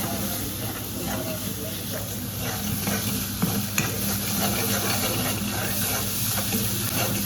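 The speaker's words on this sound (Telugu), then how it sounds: "ఇది కొంచెం సేపు వేయించుకోవాలి" Mushroom curry sizzles in a hot pan with a continuous close frying hiss, while a spoon stirs and scrapes through the raw ingredients at an even, unhurried pace.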